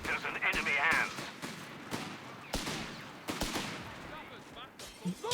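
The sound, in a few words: Bren gunfire in Company of Heroes 3 video game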